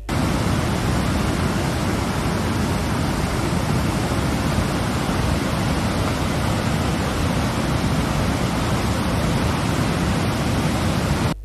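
Floodwater of the Terme stream in Samsun's Salıpazarı area, swollen and overflowing after a heavy downpour, roars as a loud, steady, broadband rush that stays constant and close throughout, with no voices.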